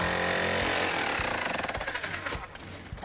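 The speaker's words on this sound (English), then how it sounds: "giving me the great big power chisel to work with" A big power chisel chipping at the exterior of an old house, a loud motor whine that settles into rapid rhythmic hammering bursts with a few heavier knocks near the end.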